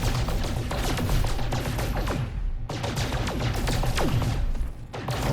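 An asteroid in No Man's Sky is blasted with a mining weapon: rapid, crackling bursts of fire and impacts rattle on continuously, with a brief gap midway before the barrage resumes.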